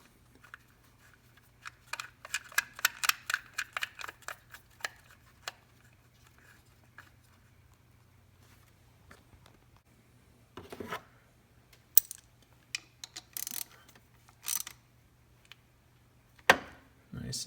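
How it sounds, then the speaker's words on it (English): A small ignition coil retaining bolt being tightened on a 2013 Hyundai Santa Fe 3.3L V6, with close bursts of quick ratchet-like clicks, a pause, then a few sharper clicks and taps. "the last thing you do is you put your retaining bolt back inside there"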